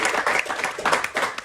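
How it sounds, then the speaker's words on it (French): A studio audience breaks into brief applause, a burst of dense clapping that lasts only a moment and sounds close and lively. "Je pense qu'on peut les applaudir quand même."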